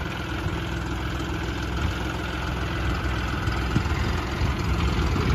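A John Deere 5310 tractor fitted with a backhoe loader, its engine running at about 1500 RPM, gives a steady, loud, low diesel drone close by that stays even throughout.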